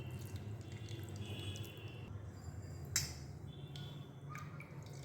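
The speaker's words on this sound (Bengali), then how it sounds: "এগুলো আলতো হাতে তুলব এরকম চারবার এইভাবে ধুয়ে নেবো আমি" Raw mango pieces being washed in water make faint splashes, drips and light sloshing by hand in a bowl, close but quiet, with no talking.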